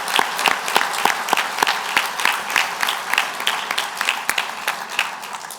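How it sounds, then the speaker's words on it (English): A crowd at a county association presidential address applauds for several seconds, a dense, lively patter of clapping with sharp individual claps standing out close by. "give them a round of applause"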